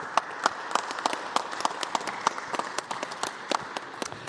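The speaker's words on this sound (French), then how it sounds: "Merci, on vous applaudit très fort, Claire Laure." A church congregation at a parish Mass in Angoulême applauds in a steady, dense burst of many hands clapping, loud and close throughout, with no talk over it.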